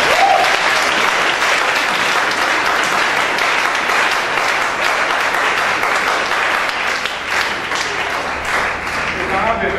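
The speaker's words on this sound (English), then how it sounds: "Clap for me." A large church congregation claps continuously, a thick, even roar of many hands that holds steady throughout and eases slightly toward the end.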